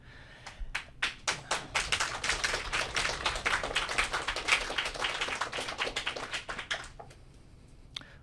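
Audience at a talk on Palestinian national liberation clapping in a run of sharp, distinct claps that builds into a brisk patter for several seconds, then thins out, with no talking.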